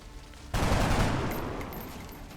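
Game gunfire in XCOM Long War bursts in abruptly as a loud, dense volley that holds steady and then slowly tapers, with no talk over it.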